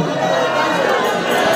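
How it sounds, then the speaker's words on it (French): A packed, jostling crowd at the Holi festival in Varanasi makes a dense roar of overlapping voices and shouts, loud and close throughout. "tant la foule est compacte"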